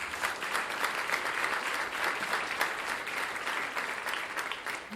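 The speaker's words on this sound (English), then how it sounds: "Let's give them a round of applause." Audience applause for event sponsors at a Salute to Women awards breakfast: steady, dense clapping from a sizable crowd, sustained at even loudness throughout, with no speech over it.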